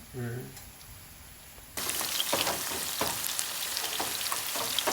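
Bitter gourd frying in hot oil in a home kitchen, a dense steady sizzle with crackling pops that begins abruptly and stays loud; a brief voice sounds just before it starts.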